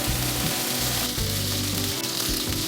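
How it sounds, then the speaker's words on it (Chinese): Pork sizzles steadily in a hot pan, a constant crackling hiss over a low humming drone. "把肉煎到焦黄上色。"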